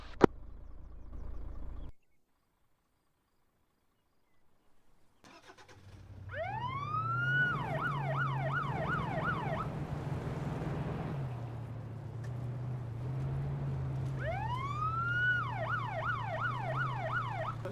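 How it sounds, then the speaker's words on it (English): Police car siren in Arma 3, wailing in rising sweeps then fast yelp cycles over a steady engine drone, loud and close, following a short gap of silence near the start. "Did you send a police car there?"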